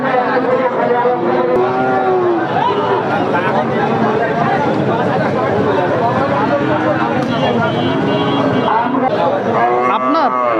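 Cattle at a heifer and calf market in Satmail moo repeatedly, with several long, loud calls rising over a constant crowd murmur as people talk nearby.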